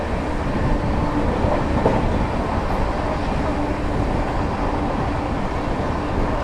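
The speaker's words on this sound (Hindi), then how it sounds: "तो गाइस फ्लैट 130 की रफ्तार फिर से ट्रेन ने पकड़ ली" The Pathankot Superfast Express from Delhi runs at about 130 km/h with a loud, continuous roar of wheels on rails and faint rhythmic clatter, heard from inside the train.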